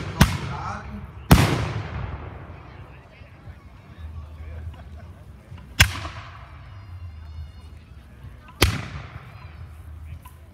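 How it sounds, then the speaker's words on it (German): Cannon shots ring out at a Landsknecht battle reenactment, four loud, sharp booms spaced a few seconds apart, each with a long decaying rumble, over a murmuring outdoor crowd. "Gleich kommen Kanonenschüsse, Kanonengranaten."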